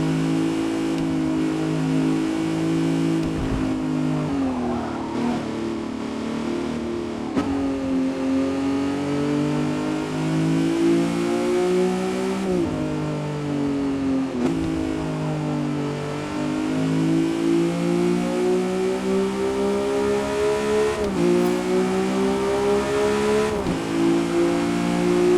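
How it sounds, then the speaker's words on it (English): A Lamborghini Revuelto engine revs loudly and continuously at the Nordschleife, its pitch rising and falling in repeated surges, close and dominant throughout. "The engine sound was so loud"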